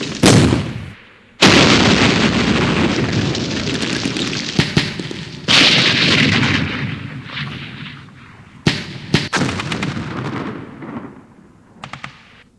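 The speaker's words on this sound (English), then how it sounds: "So right now we're in the middle of an artillery strike" Artillery strike in a Campaign Series Middle East war game: loud bursts of booming impacts separated by short gaps, a long rolling blast sequence, then sharper scattered explosions fading toward the end.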